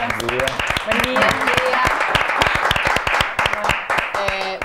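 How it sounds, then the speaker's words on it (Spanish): An audience applauds to welcome councillor Laura Colazo, giving a sustained burst of many hands clapping, close and fairly loud, with voices mixed in. "Fuerte el aplauso para recibirla."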